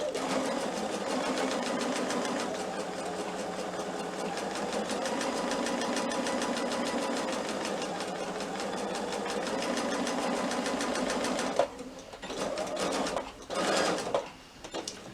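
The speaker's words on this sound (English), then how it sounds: "I am just going to stitch around the edge of it" A sewing machine stitches around the edge of a small batik wallet with a fast, even mechanical whir held for about eleven seconds, then stops and starts in short bursts; a voice speaks briefly.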